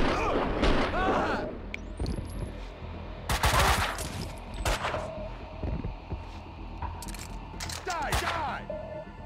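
Gunfire in the game Max Payne 2: loud bursts of shots with metallic clinks and impacts, broken by shouted voices between the volleys.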